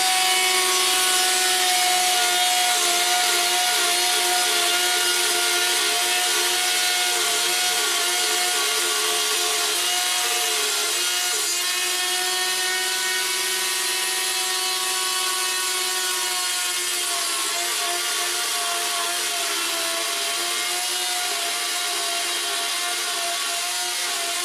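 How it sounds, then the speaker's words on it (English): Router cutting a 600 mm radius curve into particle board, a continuous high whining, rasping cut that holds steady for over twenty seconds, loud and close with no speech. "using the router, I'll cut out the 600 millimeter radius"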